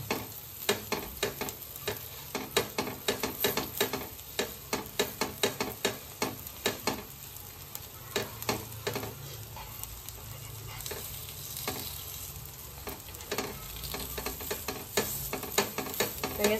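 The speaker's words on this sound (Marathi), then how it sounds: "त्या पटापट दोन्ही साईडनी शॅलो फ्राय होऊन जाईल" Aloo tikki patties shallow frying in oil in a pan, a constant close sizzle throughout with frequent light scraping and tapping of a spatula as they are turned.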